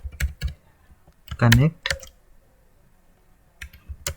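Clicky keystrokes on a computer keyboard as an Oracle database command is entered, coming in short scattered bursts with pauses, close and moderately loud, with someone briefly speaking over part of it.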